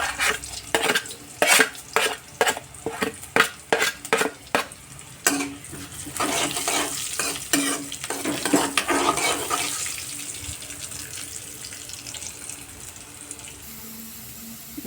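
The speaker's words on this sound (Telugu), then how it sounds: "ఇప్పుడైతే నేను జీలకర్ర కూడా వేసేసుకుంటున్నాను" Cumin seeds hit hot oil and fry, with a run of rapid, loud spatula strikes and scraping for the first several seconds, then a softer, steady sizzle and hiss as the stirring eases off.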